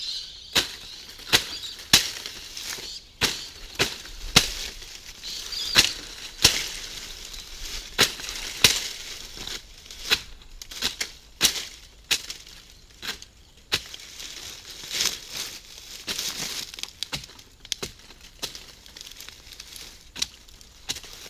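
Pandanus leaves are cut apart outdoors in the tropical north, a string of sharp crisp snaps and slicing chops at an irregular rhythm, close and fairly loud over a quiet background.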